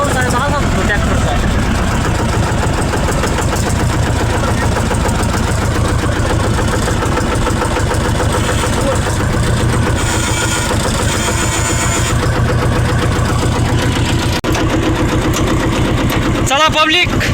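A tractor engine runs steadily and loudly up close during the rainy season, with a constant mid-to-low rumble throughout and people talking over it.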